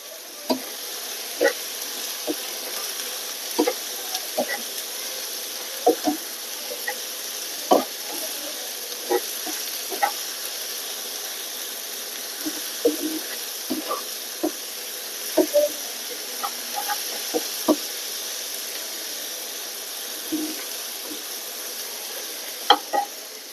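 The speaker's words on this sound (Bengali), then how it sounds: "ভালো করে একটু ভাজা ভাজা হোক।" Tomatoes with cumin and coriander powder fry in a hot pan for egg bhuna, a soft continuous sizzle broken by frequent sharp scrapes and taps of a spatula.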